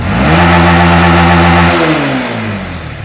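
A Honda Winner motorbike engine, previously suffering throttle hesitation, revs loudly and steadily up as the throttle is pulled wide open, then holds and drops back toward idle near the end, close and alone.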